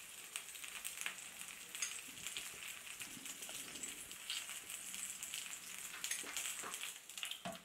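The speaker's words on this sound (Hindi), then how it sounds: "अब हम थोड़ा थोड़ा तेल इसमें और डाल देते हैं ताकि नीचे का हिस्सा भी अच्छी तरह से पक जाए" Semolina appe dumplings sizzle in oil in an appe pan, a soft, steady crackle with scattered faint pops throughout and no one talking.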